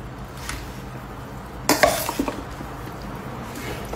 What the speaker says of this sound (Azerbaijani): Biraz qarışdırın.